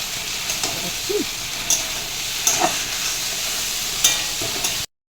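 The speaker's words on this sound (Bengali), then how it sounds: "এখন আমি নাড়াচাড়া দিয়ে হালকা ঝুল দিয়ে দেবো" Semolina fries in a pan for a taro and paneer curry, village-style, a steady sizzling hiss broken by scraping stirs and light knocks of a spoon before it cuts off abruptly.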